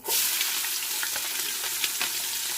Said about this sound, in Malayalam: ഇതൊന്ന് ജസ്റ്റ് ഒന്ന് ചൂടായി വന്നാൽ നമുക്ക് ഈ സവാള അതിലേക്ക് ചേർത്ത് കൊടുക്കാം